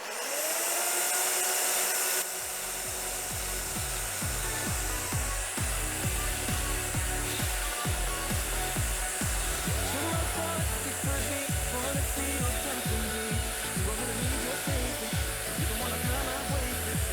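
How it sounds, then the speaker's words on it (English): Electric chainsaw cutting a groove into XPS foam, a constant loud motor whine with rapid rough chattering and tearing as the chain bites into the foam, running continuously throughout. "the only way I can think of how to cut the groove into the XPS is with my electric chainsaw"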